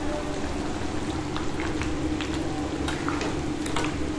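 Water pouring into a pan of Bengali chicken curry cooked in oil, a steady liquid splash with bubbling and small drips running continuously and close by, with no talking.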